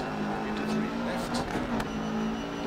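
Rally car engine droning steadily at high revs on a stage in Dirt Rally 2.0, Australia, with someone talking over it.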